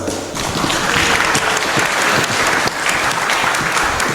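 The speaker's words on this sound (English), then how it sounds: "Please join me in a massive round of applause for our speakers." A conference audience gives its speakers a loud, sustained round of clapping, a thick continuous wash of many hands with a brief dip partway through before it swells again.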